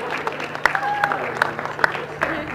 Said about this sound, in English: give Molly one more round of applause.